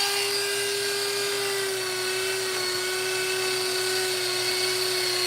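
A Hercules rotary tool with a burr carves a wooden bear sculpture, giving a steady high-pitched whine that holds nearly constant for several seconds, close and continuous with no talking.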